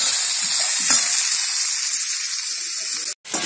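Beetroot and potato pieces fry in oil, giving a continuous close sizzling hiss with a few faint clinks and a brief dropout near the end; no one speaks.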